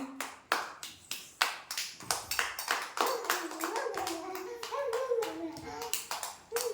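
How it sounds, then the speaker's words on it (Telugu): Children at an anganwadi play a hopping game while a group claps in rhythmic, fairly quick bursts, sharp and close, with a voice faintly under the claps. "అందరూ క్లాప్స్ కొట్టండి మోక్షకి"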